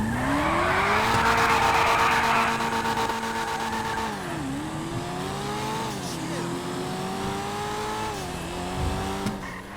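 A 1,000-horsepower rear-wheel-drive Coquette sports car engine in GTA revs and shifts through gears, pitch climbing and dropping repeatedly, loud and close, with a brief tire squeal early on.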